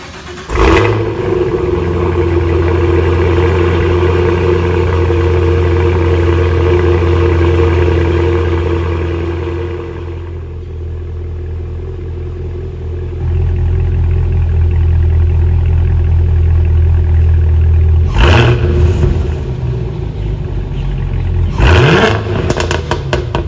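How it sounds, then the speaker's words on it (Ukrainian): A Cadillac's engine idles with a deep, steady exhaust rumble, easing off midway, then rising again with a couple of brief revs near the end. "давайте послухаємо просто його вихлопну систему"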